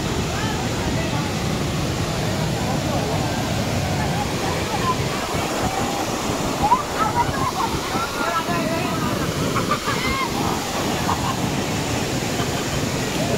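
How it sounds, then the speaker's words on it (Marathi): Savatkada waterfall roars as a steady, dense wash of falling water, close and continuous throughout with no clear breaks. "बघू शकता तुम्ही धबधबा."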